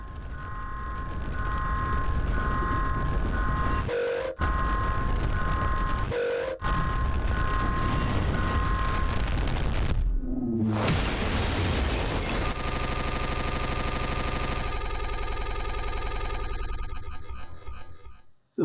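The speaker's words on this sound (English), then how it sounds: "The freaking flashbang" A flashbang goes off in the Mouthwashing game: a steady synthetic tone cut by two short breaks, a sudden boom and descending sweep, then a loud sustained ringing wash that fades out.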